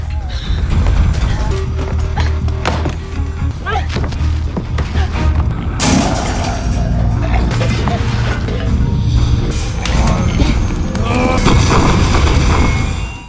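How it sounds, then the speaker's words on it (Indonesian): A loud, dense stretch of explosion and destruction from a zombie film, with booming blasts, crashes and debris piling over each other almost continuously for over ten seconds. "Megan menyiapkan cairan kimia untuk meledakkan Larry si zombie baru jadi"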